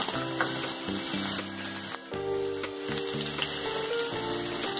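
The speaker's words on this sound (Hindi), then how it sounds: "और फिर हम इसमें डालेंगे बारीक कटी हुई प्याज। प्याज को हमें हल्का गोल्डन होने तक पकाना है।" Finely chopped onion frying in oil in a pan, a dense, fairly loud sizzle running throughout, layered with steady tonal hum from music or kitchen background, no talk.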